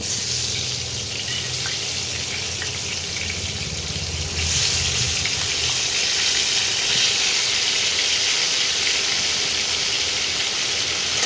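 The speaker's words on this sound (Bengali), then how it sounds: "এবারে এর মধ্যে যে আলুগুলো দেবো মাংসের, এই আলুগুলো একটু ভেজে নেব" Potato chunks frying in hot oil for a chicken curry, a steady bright sizzle that grows louder partway through, close and continuous with no talking.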